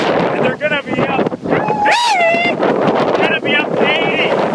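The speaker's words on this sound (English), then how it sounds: "Got winds gusting at 67 miles an hour" Strong hurricane wind gusts near 67 mph in Hewitt, New York roar and buffet the microphone constantly, loud and close, while someone shouts over them.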